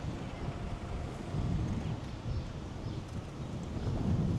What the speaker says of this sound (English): Wind is picking up quite a bit though.